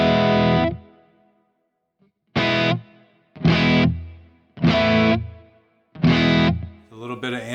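Guitar tones played through a Kemper Profiler with a very low ambient reverb, heard as several distorted, effects-laden chords or notes, each ringing for about a second with pauses between, close and fairly loud.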